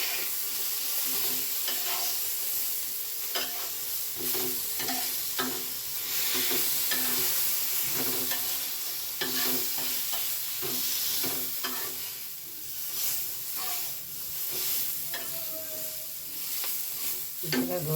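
Ragi (finger millet) being dry-roasted in a pan for ragi ambli, a steady soft sizzle broken by repeated scraping strokes of stirring, close and even, with no talk.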